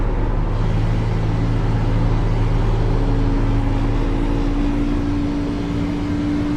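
Steady droning engine of a race car in the iRacing simulator, a continuous loud hum holding a level pitch with a slowly rising tone, no voices.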